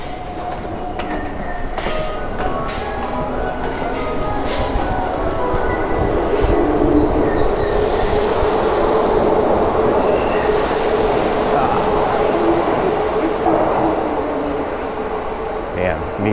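A train rolls past close by in Asakusa, Tokyo, a steady rumble with rattling wheels and a rising whoosh, while people talk faintly in the background.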